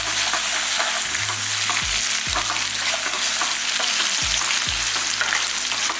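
Onions sauté in a pan for a curry leaf, coriander and mint thokku, giving a loud continuous sizzle with occasional stirring scrapes.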